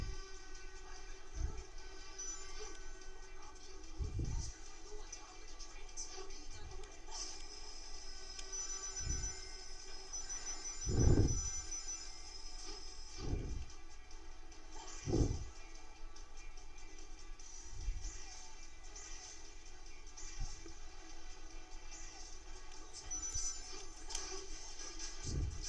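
A train in the video game Sonic 2006 rumbles along steadily with a sustained horn-like tone, punctuated by regular low thuds of rail joints, at moderate level with no talking.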